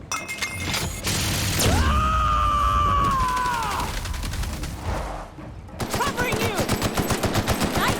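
Heavy automatic weapon fire in The Outer Worlds roars in sustained bursts with a whining energy tone and shattering debris, pausing briefly before rapid shots resume; a voice speaks briefly over the combat.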